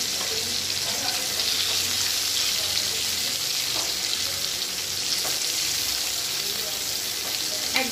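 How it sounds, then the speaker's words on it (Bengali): Stuffed pointed gourd (potol) with a fish filling fries in oil on low heat, giving a steady, close sizzle that carries unbroken throughout. "একদম কমিয়ে ভাজছে তাহলে পটলটা ভাজাও হয়ে যাবে"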